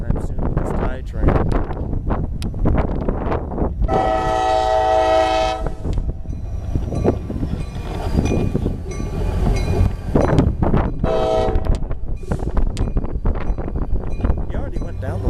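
A slow CSX tie train rumbles through an intersection, its horn sounding in long, loud, sustained blasts over the steady grind and clatter of the railcars, with people talking nearby.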